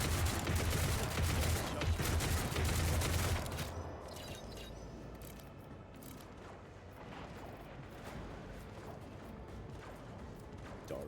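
Loud, dense bursts of rapid gunfire from a Warhammer 40,000 video game battle fill the first few seconds, then drop to quieter scattered shots, clanks and impacts.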